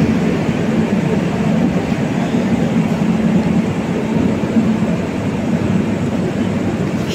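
Sealdah–New Jalpaiguri Humsafar Express pulling out of Sealdah station on its first commercial run: a steady, loud rumble of rolling coaches and wheels on rails, continuous and unbroken throughout.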